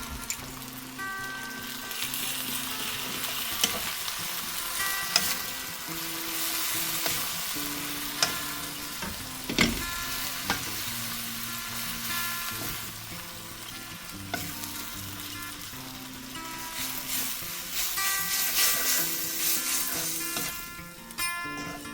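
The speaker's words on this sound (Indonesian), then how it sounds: "Oke, dan kita aduk ya." Food sizzles steadily in a pan while a utensil scrapes and stirs it in irregular strokes. The sound is close and moderately loud, with no talking.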